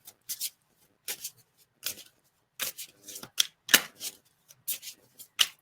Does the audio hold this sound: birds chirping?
no